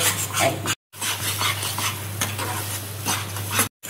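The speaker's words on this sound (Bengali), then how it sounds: "এই যে দেখো কড়ার মধ্যে নাড়ছি, এইভাবে নাড়তে নাড়তে জিনিসটা বেশ কড়াই ছেড়ে আসবে।" Mashed ash gourd peels are stirred in a wok, a busy, close scraping and slurping with a faint sizzle, repeated strokes running continuously.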